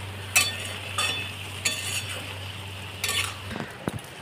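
A utensil stirs and scrapes thick semolina dough in a pan, giving intermittent clinks and scuffs against a low steady hum, with sharper knocks near the end.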